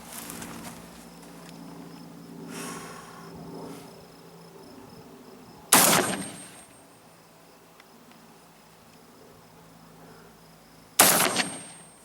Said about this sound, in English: we got the Mossberg 930. We're going to shoot some reloaded slugs